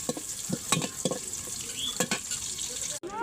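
Chopped onions sizzle steadily in a hot pan on a home stove, with a spatula scraping and stirring in several distinct strokes over the constant hiss, followed by a brief clatter at the end.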